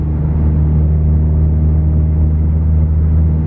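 A VW Golf GTI engine under throttle, a loud, steady low rumble that holds flat rather than climbing, as the car refuses to accelerate and cuts out.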